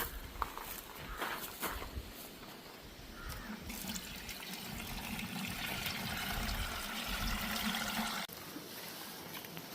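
Water strains from wet clay through a double-layer cotton cloth, a steady close trickle and dribble lasting throughout, with occasional soft handling knocks and no voices.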